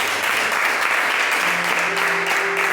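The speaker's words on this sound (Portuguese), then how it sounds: "Aplaude Jesus essa noite." A church congregation applauds together, dense continuous clapping filling the room, loud and sustained, with a faint held tone from music underneath toward the end.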